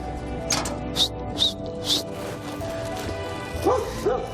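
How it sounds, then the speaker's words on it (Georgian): Several dogs give short, sharp barks and yips at intervals, moderately close, with a couple of higher whimpering yelps toward the end over a quiet background. "ახლა დამხდებიან ძაღლები."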